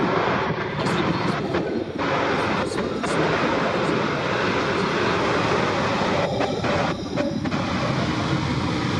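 Blue Angels jets flying in diamond formation at the Miramar Airshow pour out a continuous, broad, loud roar. A commentator's voice breaks through faintly in short bursts over the noise.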